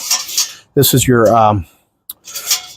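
A metal dampener slides on a portable pellet grill, giving short, close scraping rasps at the start and end of the clip, with a brief voice in between.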